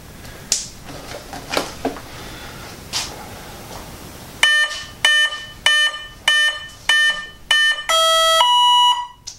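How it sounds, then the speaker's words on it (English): A series of sharp electronic beeps from the speed controller of an FMS Pitts Special 1400 RC plane, six short evenly spaced tones for a 6-cell battery followed by a rising confirmation tune, preceded by faint clicks and handling. "6 cells, 6 beeps"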